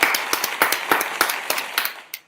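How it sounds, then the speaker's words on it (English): A small audience at an African talent and jobs event gives a short round of applause, with sharp, distinct claps from a few people close by that thin out and end after about two seconds. "Let me give you a round of applause."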